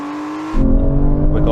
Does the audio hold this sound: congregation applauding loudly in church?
no